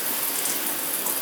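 Shower faucet in a tub/shower with a freshly tightened cartridge, running steadily as a continuous broadband water hiss, close and fairly loud, with no talking.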